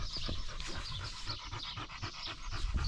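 A sleeping dog breathing heavily and rhythmically, loud panting-like breaths close up, repeating steadily with no other sounds.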